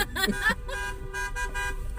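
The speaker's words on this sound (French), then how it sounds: "j'ai pété le klaxon." Short toots from a broken car horn sound up close, a few brief honks with some background noise between them.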